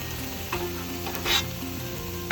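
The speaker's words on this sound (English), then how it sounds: "After I put a little oil on the griddle, put my veggies, just carrots, onions, peppers, peas." Carrots, onions, peppers and peas frying on an oiled griddle for chicken fried rice, a continuous close sizzle with a couple of brief spatula scrapes.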